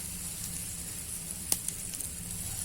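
Batter sizzling in a hot pan, a steady soft hiss and crackle with a couple of small pops, fairly close and with no talking.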